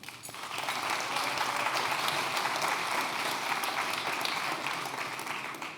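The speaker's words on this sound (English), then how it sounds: "Applause for Lars, please" At a start-up award ceremony during a festival, an audience applauds a jury member coming on stage; dense clapping swells in quickly, holds steady and loud, then eases slightly toward the end.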